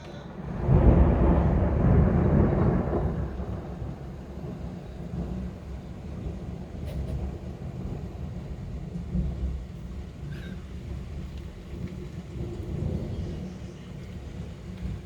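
Thunder rolls through a strong thunderstorm in Alsace, a loud low rumble swelling early and then easing into a long, steady background roar that lingers under rain-like noise.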